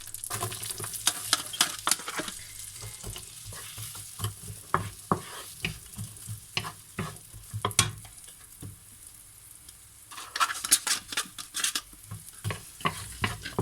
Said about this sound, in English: You have to saute this one, make it soft.